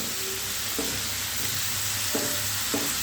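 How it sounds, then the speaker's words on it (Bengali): Potatoes frying with onion and salt in a pan, a dense continuous sizzle close by with several spatula scrapes and stirs breaking through at irregular intervals, no talk. "এখন এই পেঁয়াজের সঙ্গে আলুগুলো একটু ভালো করে ভেজে নেব"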